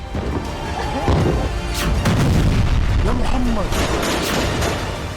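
Loud booms and crashes of an Iranian missile being intercepted by Iron Dome over Israel, sustained roaring blasts with scattered impacts, voices and crowd noise mixed in throughout.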